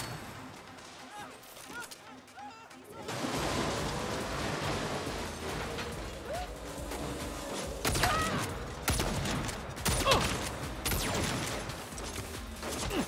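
Rapid gunfire in the video game Saints Row, dense continuous bursts of shots with a rain-like crackle, loud and close after a quieter opening, with some voice mixed in.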